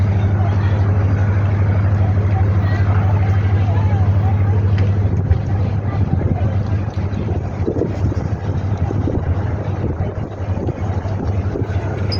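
Ferry boat bound for Formentera, a loud steady engine drone with rushing wind and water close by, with people talking over it.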